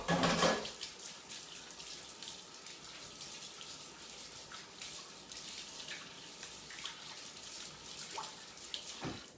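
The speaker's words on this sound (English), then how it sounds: "let me wash my hands real fast" Steady hiss of a faucet running at a kitchen sink while hands are rinsed clean of butter and cinnamon, a continuous wash of water with small splashes and clinks, no voices.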